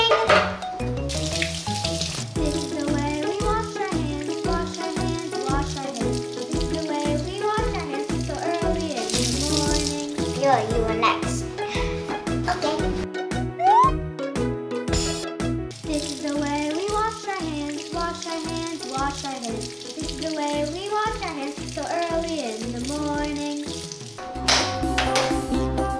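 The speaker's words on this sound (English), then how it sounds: "Let's go wash our hands with soap." Tap water runs steadily while hands are washed with soap, a soft continuous splash under loud, constant music.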